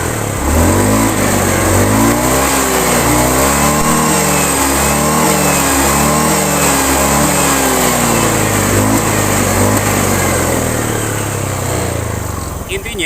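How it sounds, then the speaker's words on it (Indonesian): An engine is revved continuously and smoothly with the throttle, a loud sustained drone that rises and falls in pitch for the whole stretch, close up. "Intinya saya gas secara spontan, secara kontinu, sama, tidak ada berbet."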